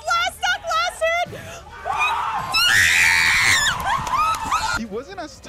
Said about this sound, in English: he is literally screaming